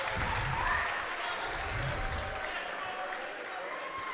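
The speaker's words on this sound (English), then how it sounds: "The crowd cheered so loud on that play, we couldn't even hear the whistle" A basketball crowd roars and cheers inside a college gym during a men's game, loud and sustained, with a brief squeak or whistle-like tone near the start and voices mixed into the din.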